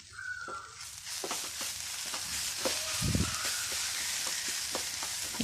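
Chili, turmeric and cumin powder sautéed in a pan for a beef dish, a soft continuous sizzle with repeated light scraping stirs and a louder knock midway, no voices.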